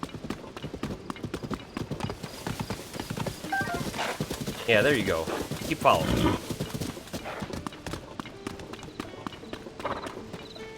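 A horse in The Legend of Zelda: Tears of the Kingdom approaches with a rapid run of clip-clopping hooves and gives a whinny midway. Players talk over the sound throughout.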